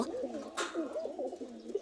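High-flying pigeon breeding pairs sitting on eggs coo softly and repeatedly nearby, a low rolling warble that continues without pause.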